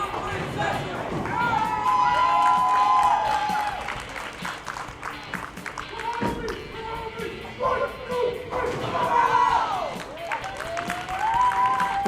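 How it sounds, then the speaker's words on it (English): A bowling team cheering at the start of a league match, with loud shouts, whoops and clapping from a group of people rising and falling in bursts across the lane area. "team starting out with a cheer"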